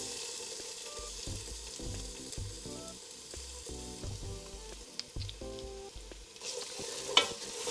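Garlic frying in a pan for Maltese timpana, a continuous close sizzle with soft crackles and a sharp clink near the end, no one talking.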